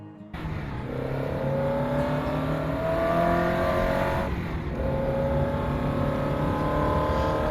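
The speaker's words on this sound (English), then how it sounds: "we can hear the cars going out now" Caterham Academy race cars in the rFactor2 sim at Castle Combe rolling out onto the track, engines revving and rising in pitch in steady overlapping sweeps, loud and continuous with no talking.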